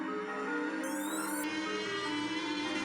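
Treadmill running at maximum speed with a Lego car spinning on the belt, giving a steady whirring motor hum with a brief high whine partway through, faint and continuous.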